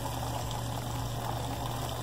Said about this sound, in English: In my pot with the chickpea or channa, I'm adding hot water to it.